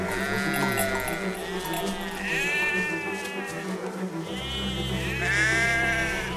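Sheep bleat in the video game Valiant Hearts, several wavering calls rising over a busy game soundscape with music, one bleat around the middle and another near the end, fairly loud and close.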